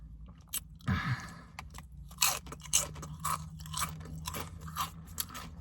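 Someone crunches and chews SunChips up close, with a sharp bite followed by a run of crisp, irregular crunches and mouth sounds, and no talking.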